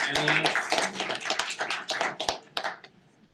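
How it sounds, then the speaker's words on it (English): An audience applauds panelists at a Boston panel event on circular cities and waste, a short burst of clapping that fades out toward the end. "Let's have a loud round of applause for"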